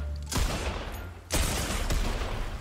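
Rapid bursts of dual pistol fire from a video game tournament crackle in two loud, close fusillades, each a dense stream of shots.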